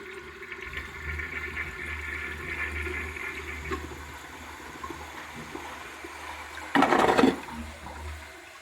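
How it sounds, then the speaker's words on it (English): Low background hum and soft trickling give way to a brief, loud flush rush from a yellow 1977 Briggs Abingdon concealed siphon jet toilet using very little water, lasting under a second, then quiet returns. "You can make them flush with like barely any water"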